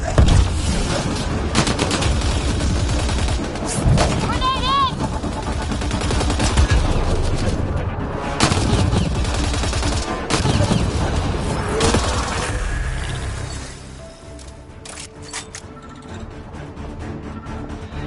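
Grenade blast and sustained automatic gunfire in the Mass Effect Andromeda video game, loud dense combat with repeated booms and rapid bursts throughout, plus game effects layered over a music-like bed.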